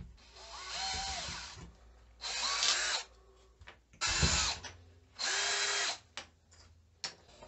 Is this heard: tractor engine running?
no